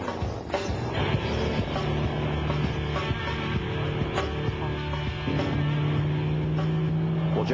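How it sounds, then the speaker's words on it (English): Jeep Cherokee four-cylinder engine climbing an off-road course, a steady droning hum with shifting revs, moderately distant, under faint background chatter. "Josh is going to take yet another run, a second run in his Jeep Cherokee."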